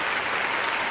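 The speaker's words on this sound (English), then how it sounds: "Let's give him a round of applause." An audience breaks into a brief burst of dense, continuous applause, a full wash of clapping filling the second without pause.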